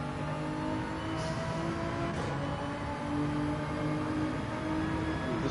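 Race car engine droning steadily at high revs while overtaking a Mazda during a Gran Turismo 7 qualifying race, a continuous close whine with shifting tones and no gaps.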